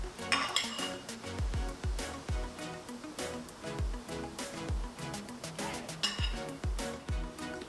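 A spoon clinks and scrapes in a bowl while mixing red lentil masoor dal into basmati rice, a busy run of quick metallic taps and scrapes at close range with no talk.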